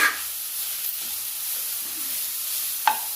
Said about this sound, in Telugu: ఇది ఇప్పుడు ముల్లంగి వేపుకుంటానండి